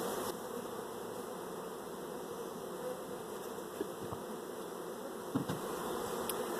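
A honey bee swarm inside a hive box hums with a steady, fairly quiet buzz, with a few louder bees passing close now and then.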